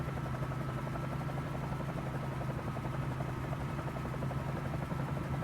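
A Bell 47J Ranger helicopter in Microsoft Flight Simulator drones continuously with a steady rotor chop and engine buzz, loud and unbroken throughout with no voices.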